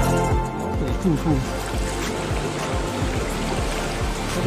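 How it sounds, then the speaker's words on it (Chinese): Steady broadband rush of water at Banping Falls, a waterfall reached by wading upstream along a creek, running continuously under a voice that talks throughout. "水瀑布到了"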